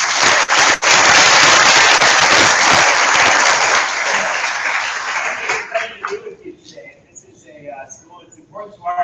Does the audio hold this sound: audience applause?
yes